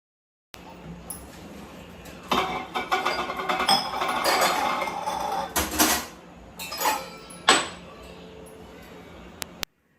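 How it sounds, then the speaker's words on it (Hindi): Half-dried dishes, pots and pans clink and clatter as they are wiped and put away in a home kitchen, irregular close knocks and rattles with a few louder bangs. "ये शाम के धुले हुए बर्तन थे, जो आधे सूखे थे आधे नहीं सूखे थे, तो मैं इनको कपड़े से पोंछ के रख दूँगी"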